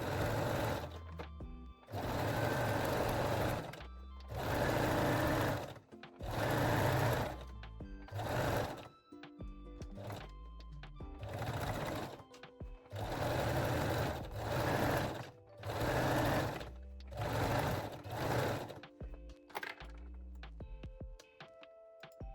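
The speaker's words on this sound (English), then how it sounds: "I will use zigzag stitch and I will sew the leg opening with the zigzag" A sewing machine zigzag-stitches the leg opening of Brazilian panties in close, loud bursts of rapid whirring, about a dozen runs separated by short pauses, with no voices.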